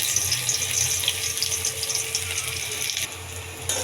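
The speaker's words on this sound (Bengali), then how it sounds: "লাল লাল করে ভেজে নিব।" Chopped onion fries in hot oil in a wok in a home kitchen, a steady dense sizzle that fills the whole stretch without pause, fairly close, with no talk.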